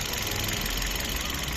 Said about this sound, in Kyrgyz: мотору жакшы оталып турат. Ровно иштеп турат.